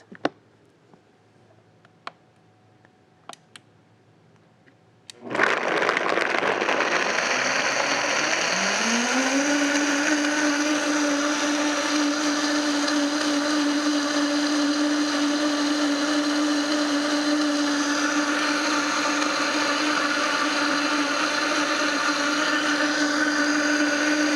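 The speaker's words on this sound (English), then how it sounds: "we're going to blend it until it's smooth" After a few faint clicks in near silence, a blender starts abruptly and runs loudly and continuously, its whirring pitch rising then holding steady.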